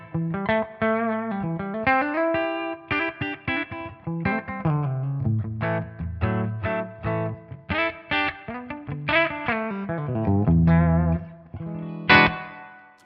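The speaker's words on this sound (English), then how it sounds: "So this is the clean tone on the bridge pickup." An electric guitar played alone through its bridge humbucker pickup, a clean tone picking melodic phrases and chords with ringing sustained notes and slight ambience.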